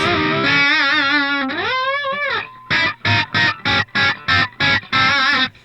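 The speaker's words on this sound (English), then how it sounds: "PV has some good distortion sounds." An electric guitar played through a 40-watt Peavey Envoy red stripe amp on its distortion channel: a sustained bending distorted chord, then eight rhythmic chopped stabs, loud and close.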